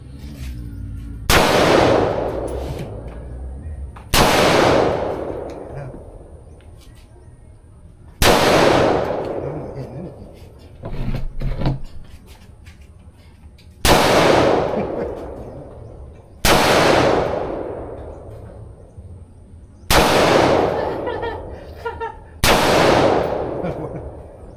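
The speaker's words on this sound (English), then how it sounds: "Here we go, shotgun time." Shotgun blasts ring out at a shooting range, seven loud sharp reports spaced a few seconds apart, each with a long decaying echo, with faint background noise between shots.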